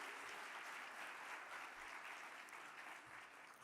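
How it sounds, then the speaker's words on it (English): Audience at an annual meeting's opening plenary session giving a round of applause, a steady, sustained wash of many hands clapping, quiet and distant. "Thank you for giving them all a round of applause."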